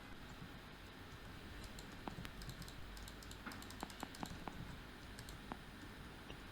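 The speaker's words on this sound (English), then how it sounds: "I'll type in the wrong letter." Computer keyboard keys click quietly in short irregular bursts of taps, close and faint, with no talking.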